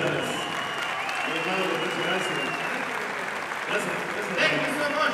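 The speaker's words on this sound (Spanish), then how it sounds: "Denle un aplauso fuerte." An audience applauds a comedian on a Mexican comedy show, a steady, moderately distant wash of clapping lasting several seconds.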